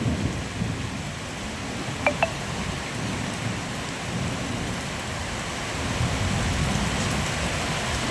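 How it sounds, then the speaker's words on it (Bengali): Heavy rain pours steadily in a thunderstorm at a village colony in Nadia, a dense continuous roar with low rumbling beneath and a couple of sharp cracks early on, no voices. "ভয়ঙ্কর বজ্রপাত হচ্ছে।"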